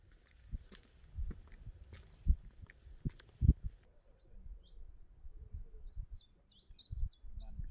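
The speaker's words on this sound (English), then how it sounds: "And you can hear birds, you can hear my footsteps, and in a few of the clips you can hear wind as well" Outdoors on a countryside walk near Castleton, birds chirp faintly in the distance while close footsteps crunch at irregular intervals, with soft wind in the background.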